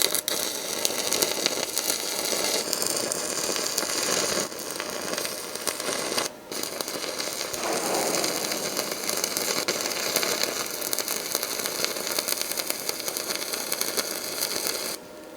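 Stick welding with a Riland MIG 130T, running a bead on scrap metal: a steady, dense crackling sizzle that continues at an even loudness for the whole stretch, with no voices.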